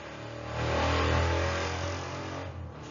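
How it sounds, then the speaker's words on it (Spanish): Loud motor engines revving close by, a steady low roar that swells and then eases off slightly, with no talking. "Esas motos tienen un ruido espantoso."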